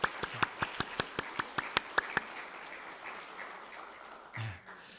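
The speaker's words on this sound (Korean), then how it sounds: "예, 다시 한번 우리 박수로" A church congregation at a Wednesday university worship service claps in a brisk, even rhythm, about a dozen crisp claps in a row, then falls quiet apart from a faint low shuffle near the end.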